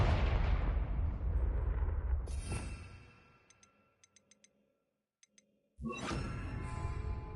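A Confringo explosion spell in the video game Hogwarts Legacy: a long, loud roaring blast fades out, sparse small clicks follow in near silence, then a second sharp, heavy explosion erupts and keeps rumbling.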